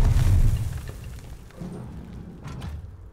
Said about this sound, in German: Granate, runter!